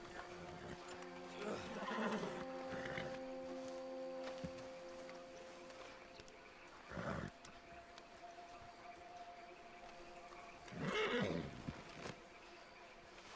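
A horse in the video game Red Dead Redemption 2 whinnies in several short bursts spread apart, over a quiet in-game background with faint hoofbeats.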